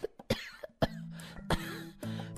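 An audiobook narrator performs a man's harsh coughing, several sharp close bursts broken by voiced groaning sounds, a voice imitating the coughs.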